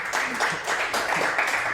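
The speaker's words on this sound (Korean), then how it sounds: "이 장면에서 박수 쳐주셔도 되는데" An audience at a lecture breaks into brief, steady applause, a close and even wash of clapping lasting under two seconds.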